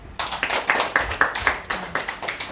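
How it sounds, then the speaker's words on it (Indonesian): A small audience at an Indonesian community gathering claps in a loose, uneven patter of hand claps, fairly close, brief and moderately loud, with some distinct sharp claps standing out. "Tepuk tangan dong."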